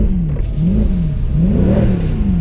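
A Mercedes-AMG C63 engine revs up and falls back in several loud, close blips, its deep note rising and dropping in pitch as the throttle is pressed and released, with no talk over it.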